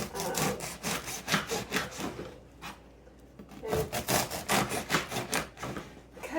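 Knife sawing through slices of Instant Pot beef roast on a board, a steady rhythmic back-and-forth cutting in close, repeated strokes with a brief pause midway.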